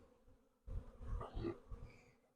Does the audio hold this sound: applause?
no